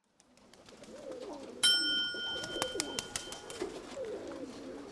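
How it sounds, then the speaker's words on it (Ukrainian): Soft pigeon coos and rustling close by, with a metallic ringing clang and a few clanks partway through. "Голуби"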